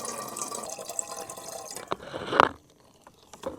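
Water runs from the tap of a camper's water tank at a riverside campsite, a steady trickling flow followed by a few separate drips once it quietens.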